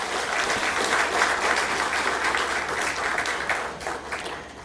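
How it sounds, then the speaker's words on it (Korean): A church congregation in a Korean Sunday service bursts into warm applause, a thick, even sound of many hands clapping for several seconds that thins out toward the end, with no one speaking over it. "우리 박수로 환영하겠습니다."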